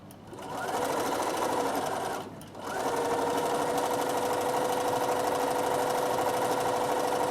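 A sewing machine stitching a Christmas table runner, a loud steady close whir that stops briefly and then resumes running continuously.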